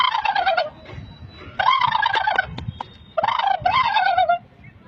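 Three loud close turkey gobbles, each a rapid warbling burst separated by short pauses, over quiet background rustle.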